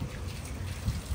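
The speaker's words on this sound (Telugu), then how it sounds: "water fall" A small waterfall in a hostel garden gives off a steady, soft rushing trickle, fairly faint and even throughout, with no voices.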